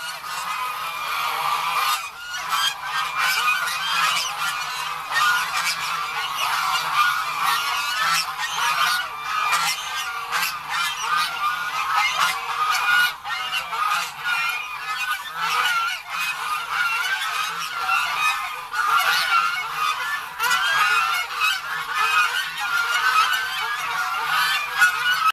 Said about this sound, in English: we've expanded into Chinese weeder geese that actually eat